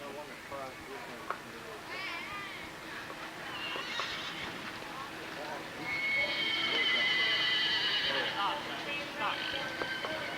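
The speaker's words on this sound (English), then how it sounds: "Jog your horses." Horses jogging in an arena at a horse show, with whinnying neighs rising over soft background hoof sounds and crowd noise; a loud, drawn-out neigh dominates the second half while a voice calls instructions.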